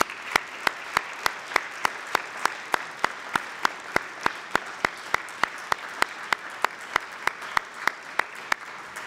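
At a university graduation ceremony, an audience applauds family and friends, with a steady spread of clapping under regular, sharp, evenly spaced loud claps standing out close by.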